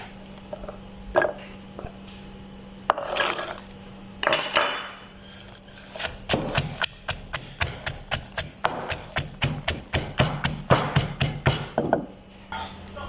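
Sliced fingerroot (krachai) pounded in a mortar for a Thai stir-fried Mekong giant catfish dish: a run of sharp, evenly spaced thuds close by, quickening into a steady rhythmic series with no talk over it.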